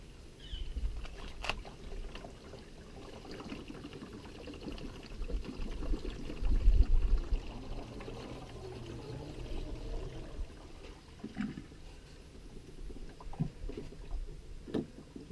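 Liquid, 2.5 gallons of it, glugs and splashes steadily as it is poured into a machine in a machine shed, a continuous low wash of pouring with occasional clunks, close and moderately loud, with no talking.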